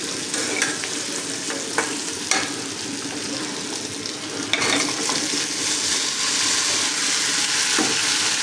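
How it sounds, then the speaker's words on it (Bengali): Onions and green chilies fry in a pan with a steady crackling sizzle, broken by several sharp scrapes and knocks as the mixture is stirred nearby. "এই যে বরবটি ভাজার জন্য এখানে পেঁয়াজ আর কাঁচামরিচ ভেজে নিতেছি"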